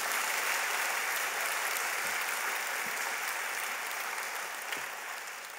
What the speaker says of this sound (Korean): 박수 치셔도 되는데.